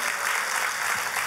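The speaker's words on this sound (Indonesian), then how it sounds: "Boleh kita beri tepuk tangan yang paling meriah." A church congregation applauds loudly during a sermon, a dense, steady wash of many hands clapping at once with no break.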